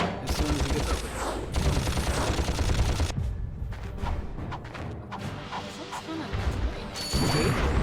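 Mines explode in the 2002 video game Ratchet and Clank as dense, loud blasts and crashing booms that come in bursts, with quieter pauses in between and a final burst at the end, over game sounds.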